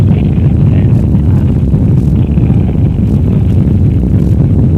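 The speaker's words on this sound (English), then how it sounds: "We have liftoff. We have liftoff at 7 a.m." Apollo 4 Saturn V rocket at liftoff, a steady, loud low rumbling roar that fills the whole stretch without pause, broad and wind-like with a dense bass core.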